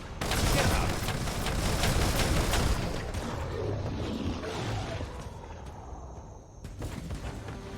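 Dense, rapid gunfire from the video game Biomutant rattles loudly for about three seconds, then eases into a steadier, softer volley of shots with scattered impacts until the end.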